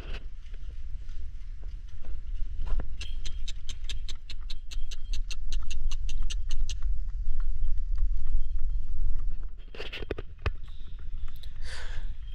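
Hooves of Bhimthadi horses clip-clop on a road in a steady, fast rhythmic series of sharp knocks, fairly close and loud, over low rumbling background noise, with a brief burst of other sounds near the end.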